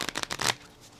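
A voice mimics the riffle of shuffling playing cards during a live card-game match, a quick run of about six breathy bursts ending in a longer hiss, then fading into quiet.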